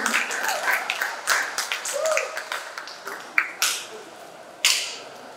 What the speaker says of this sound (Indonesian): berikan tepuk tangan yang meriah untuk kedua paslon kita pada siang hari ini